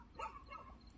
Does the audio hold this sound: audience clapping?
no